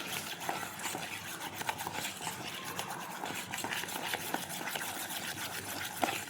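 Cake batter with vanilla essence being mixed in a bowl, a faint, steady scraping and stirring with small clicks of utensil on the bowl.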